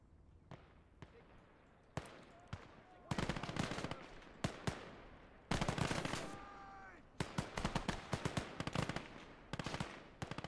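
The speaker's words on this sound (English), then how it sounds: "Germans with their machine guns." German troops firing machine guns in the WWII strategy game Gates of Hell: rapid bursts of automatic fire, some close and loud and some farther off, crackling in clusters with short gaps between volleys.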